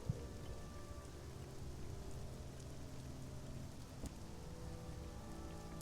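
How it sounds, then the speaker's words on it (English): Steady rain pours down in the game Sunless Skies while a storm rages in Traitor's Wood, a dense, even patter with no voices and one faint sharp crack partway through. "It begins to pour."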